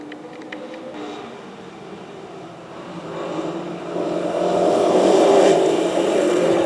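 A Mark II rally car on a forest stage approaches from a distance, its engine note swelling steadily louder and rougher as it drives past at speed.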